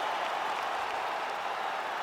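Arena crowd cheering and applauding after a fight goes the full 25 minutes, a steady dense roar of clapping and cheers filling the whole moment with no voice above it.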